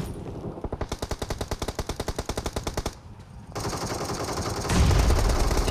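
Automatic gunfire in the mobile battle royale game BGMI, a rapid burst of evenly spaced loud shots for about two seconds, a brief pause, then a continuous roaring rush of game sound, no speech.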